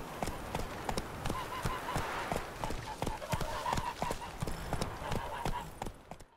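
Geralt's horse Roach gallops in Witcher 3, a steady run of loud, close clip-clop hoofbeats landing in a quick, even rhythm across the whole stretch.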